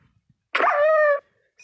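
A single dog bark with a whining tail in Minecraft, one short, clear, fairly loud call against near silence, with a faint click or two before it.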